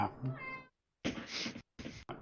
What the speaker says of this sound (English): hold on, my cat is bugging me.